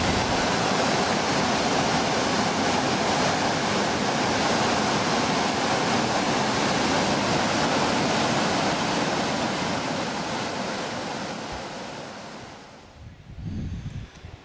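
A river waterfall and rapids roar as a dense, continuous rush of water, close and loud, easing slightly near the end, with no talking.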